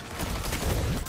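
A brief, dense burst of loud video game gunfire, packed close together with no clear gaps and no talk on top.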